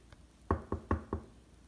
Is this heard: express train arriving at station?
no